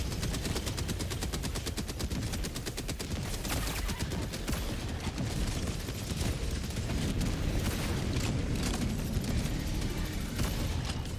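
Rapid, continuous gunfire in a shooter game, a dense barrage of closely spaced blasts and booms running throughout without pause, with no talk heard.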